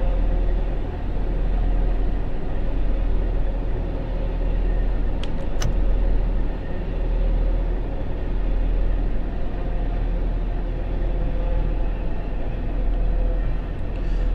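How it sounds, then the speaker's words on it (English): A Class 170 diesel multiple unit in the Train Sim World video game pulls away, heard from outside as a steady, loud low engine drone and rumble that holds throughout. "we'll have an outside shot for the pull-away to let you listen to the sounds of the 170"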